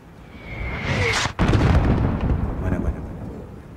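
Mortar fire in Call of Duty: Modern Warfare (2019) in Malaysia, a heavy boom with a sharp crack near the middle, followed by rumbling debris, over a background hum and faint radio-like chatter.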